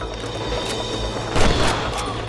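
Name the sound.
gunshots in the Red Dead Redemption video game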